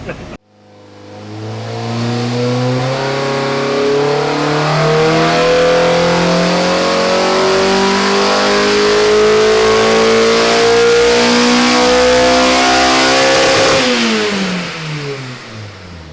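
A Mazda Miata engine with an upgrade kit revs steadily upward under load on a dyno for over ten seconds, loud and close, pitch climbing smoothly before dropping off at the end.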